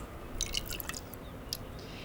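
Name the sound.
olive oil poured into flour and water yeast mix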